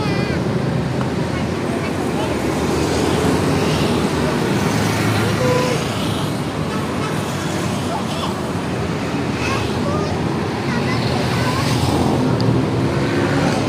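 Loud, steady engine rumble and traffic noise at the Pondok Pinang bus terminal, with buses idling and moving nearby and voices talking in the background.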